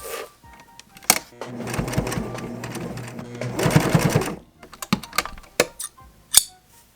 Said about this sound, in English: I'm gonna try it on the sewing machine instead of the serger